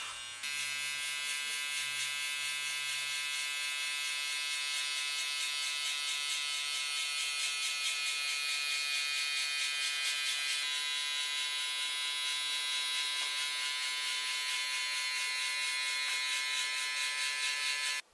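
Electric hair clippers hum steadily and close by while a barber blends a drop fade using 1.5 guards and a trimmer line. The buzzing is continuous and unbroken for the whole stretch, with no talking over it.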